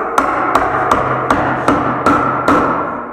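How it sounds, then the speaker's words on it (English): A hammer strikes a chisel in seven sharp, evenly spaced metallic blows while a clutch spring is changed on a Yamaha X2/X4, close and loud over a faint background hum. "take your chisel once again, go back the other way"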